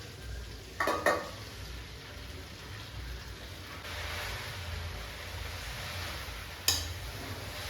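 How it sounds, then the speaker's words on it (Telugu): Gongura leaves fry in oil in a pan, giving a steady soft sizzle with a couple of brief clinks of a utensil against the pan near the start and near the end. "మళ్ళీ ప్యాన్లోకి ఆయిల్ వేసుకొని అందులోనే ఇప్పుడు ఈ గోంగూరని ఫ్రై చేసుకోవాలి."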